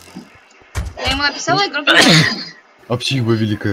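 A single sharp sneeze bursts out in the middle of nearby conversation, sandwiched between people talking.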